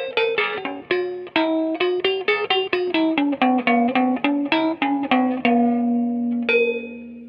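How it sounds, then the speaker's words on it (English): Electric guitar with a metal cable tie wedged between the strings near the bridge pickup, giving clanging, ring-modulator-like metallic notes in a fast, steady run that ends on one sustained, ringing tone. "we put the cable tie in between the strings"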